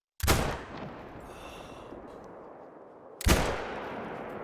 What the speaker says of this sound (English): So let's go ahead and let's actually shoot this a few times.